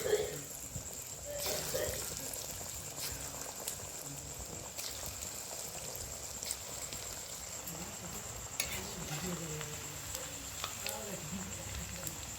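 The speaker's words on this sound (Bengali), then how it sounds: "হালকা গরম অবস্থায় আমি পকোড়াগুলি ছেড়ে দেব। হালকা আঁচে ভাজতে হবে।" Chicken pakoras deep-fry in moderately hot oil over low heat, giving a soft, continuous bubbling sizzle that stays fairly faint, with occasional clinks and a voice talking intermittently.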